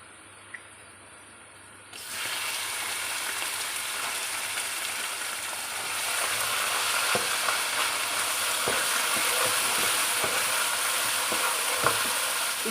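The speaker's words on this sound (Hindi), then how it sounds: "इसको फ्राई करना है जितनी देर तक ये पिंक से वाइट नहीं हो जाता" Minced beef keema frying with lightly browned onions, a loud continuous sizzle that swells in after a quiet start and grows fuller, with occasional spatula scrapes and taps, close by and alone.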